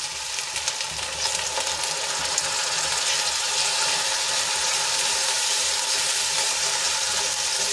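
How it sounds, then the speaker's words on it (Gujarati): Tomatoes sautéing in a pan with ginger, garlic and chillies, giving a steady, bright sizzle that holds evenly from start to finish with no voices. "અને સરસ રીતે મિક્સ કરીને આપણે થોડી વાર સુધી અને ટમેટા સોફ્ટ થઈ જાય ત્યાં સુધી સંતળાવા દઈશું"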